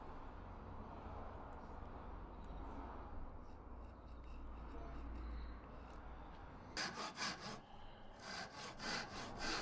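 A hand saw cuts through wood in a workshop, first a steady rasping drag, then several distinct rhythmic back-and-forth strokes near the end, close and fairly quiet.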